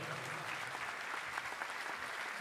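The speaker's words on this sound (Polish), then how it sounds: "Wielkie brawa." Theatre audience applauding steadily at a concert in the Juliusz Osterwa Theatre in Gorzów Wielkopolski, a dense, even wash of clapping that holds at moderate loudness throughout with no voices over it.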